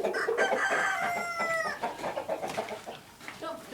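Chickens on a home farm cluck and crow together, a drawn-out rooster crow rising over steady nearby clucking and cackling from the flock, loud and close throughout.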